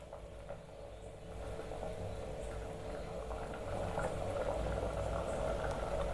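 Mochai kuzhambu, a bean curry, bubbling at a steady boil in a pot, with a continuous close simmering hiss and dense popping bubbles, no talk.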